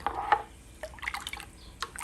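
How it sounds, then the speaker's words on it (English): Water pours and drips into a container while making strawberry lemonade, a few brief splashes and trickles, close and moderately quiet, with no talk. "And now I am ready to start pouring my water."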